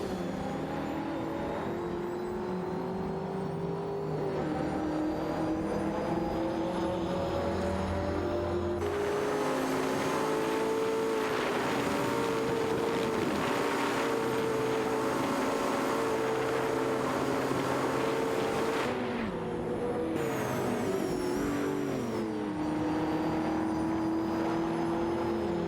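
Several race cars lap a track in an AI racing video game, their engine tones overlapping and shifting in pitch as they rise, fall and pass, steady throughout with no talk.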